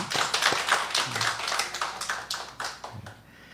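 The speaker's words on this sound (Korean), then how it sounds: "뜨거운 박수로 환영하겠습니다" A small church congregation claps to welcome two newcomers, a scattered run of distinct, fairly close hand claps that thins out and fades toward the end.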